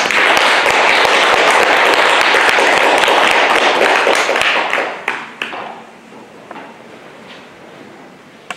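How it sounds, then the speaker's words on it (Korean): Audience at a Won Buddhist meditation hall lecture in Busan clapping to welcome the lecturer, a loud dense burst of applause lasting several seconds, then dying away to a few scattered claps and quiet room noise. "강사님 박수로 모시겠습니다."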